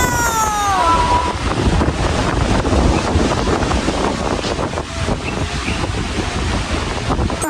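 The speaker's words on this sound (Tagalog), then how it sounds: "Bagyo-bagyo po ang hangin. Oo po ang mga dahon po ng saging." Strong gusty wind lashing through banana leaves near a hut, a loud continuous roar with rustling and buffeting against the microphone, steady throughout with no voices.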